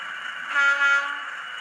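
A Class 40 model locomotive's sound decoder sounds a short two-note horn blast over a steady diesel engine hum, brief and fairly close.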